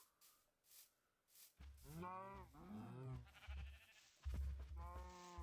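Sheep bleat in the blocky game Minecraft, several wavering calls in quick succession, fairly close and clear, with a few soft ambient game noises between them and no talking.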